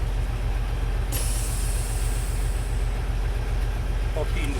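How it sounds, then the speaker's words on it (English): A 2019 Kenworth T680 with an MX13 engine runs at raised RPM, a steady low rumble with a high whine entering partway through, close and continuous. "Recommend you cruise control on and turn up the RPMs."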